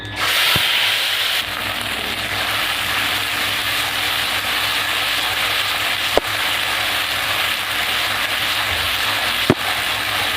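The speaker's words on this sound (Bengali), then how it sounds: "মশলাটা আমি ভালো করে কষিয়ে নেব" Ground spice paste cooking in hot oil with whole garam masala and cumin, giving a steady, even sizzle throughout, with two brief sharp clicks partway through.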